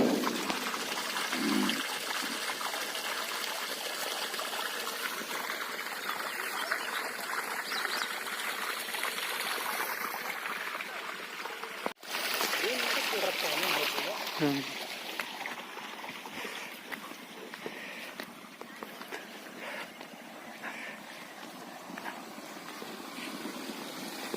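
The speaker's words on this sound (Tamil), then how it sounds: "நெல் வயலுக்கு தான் பாயுது." Water from a 3-inch, 600 W BLDC solar pump pours steadily into a paddy field, a continuous close rushing flow with a brief knock partway through, alone without voices.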